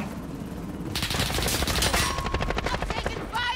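Rapid automatic gunfire crackles in Call of Duty: Modern Warfare during a Domination match, dense bursts of machine-gun shots rattling close and loud with a brief lull before another volley.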